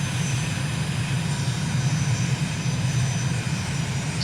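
Airplane engine on approach to a long runway, a steady loud drone with a deep low hum and a thin high whine, constant throughout and with no voices.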